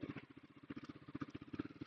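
Royal Enfield Himalayan 450 motorcycle ridden off-road through a muddy field used by tractors, its engine giving a steady, rhythmic low thumping pulse at moderate distance, alone without talk.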